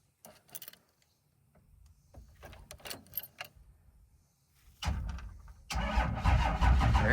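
A first-generation Cummins diesel engine in an abandoned truck cranks through several uneven turns, catches, and settles into a loud, rough running clatter that builds over the last seconds.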